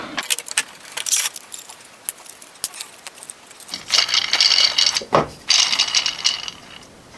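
3D printed plastic planetary gears being fitted together by hand, with their pins lined up: irregular close clicks, rattles and scraping, sparse at first, then denser bursts of plastic clatter.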